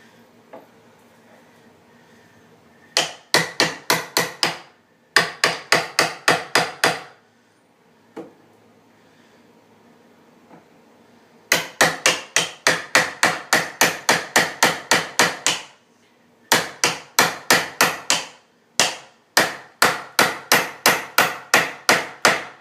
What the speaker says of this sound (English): I'm going to try cutting with this device. It's pretty much a cutter that you hammer in.